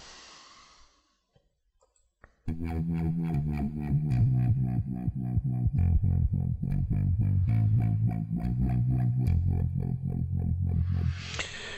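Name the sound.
distorted sawtooth and sine wave synthesizer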